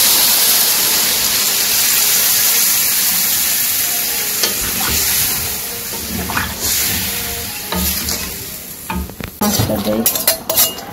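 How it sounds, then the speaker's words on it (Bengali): Water poured into a sautéed curry in a pan, bringing a steady loud sizzle that breaks into stirring scrapes and clatters of a utensil against the pan toward the end. "আমার এটা কষা হয়েছে জল দেবো"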